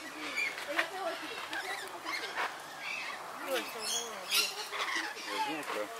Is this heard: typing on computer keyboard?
no